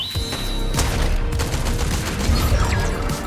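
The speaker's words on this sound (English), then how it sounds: "Oh god, I love the Oni shotgun." Rapid Oni shotgun blasts in the video game Fortnite, several loud booming shots close together amid dense game noise and effects.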